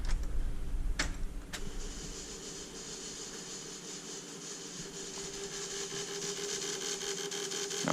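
A Ford Bronco engine cold-starts after sitting about a year, a couple of sharp clicks giving way to a steady running drone with a high whine on top, close and fairly loud throughout.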